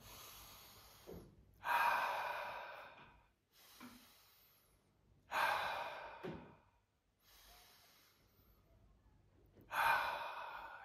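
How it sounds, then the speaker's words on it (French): Three deep breaths at the close of a guided meditation, each a long, airy inhale-and-exhale rising and fading, spaced evenly with quiet pauses between, close and alone with no talking. "je t'invite à prendre 3 grandes respirations"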